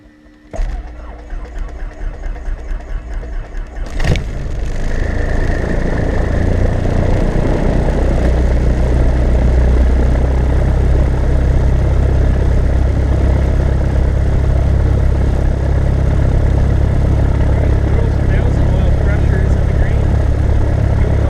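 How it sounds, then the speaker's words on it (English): A light aircraft engine cranks with a sharp click, catches and settles into a loud, steady idling drone that continues throughout. "now that we've got the engine started"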